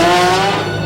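Mazda RX-7 drag car with wheelie bars launching at a drag strip, a loud, close, screaming engine note with tire squeal holding steady through the brief burst before easing slightly.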